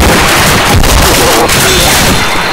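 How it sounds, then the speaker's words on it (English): A grenade exploding in the zombie shooter Left 4 Dead 2, a loud close blast that becomes a continuous roaring rumble of debris and noise, filling the whole moment. "Grenade!"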